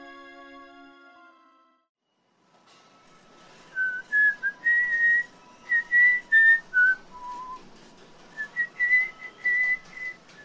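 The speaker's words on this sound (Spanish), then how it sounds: "¿Te molesta que esté silbando" A man whistles a lilting tune in short, clear phrases of rising and falling notes, close and alone after a brief sustained tone and a moment of silence.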